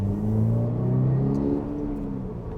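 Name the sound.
Toyota GR86 engine revving with carbon fibre intake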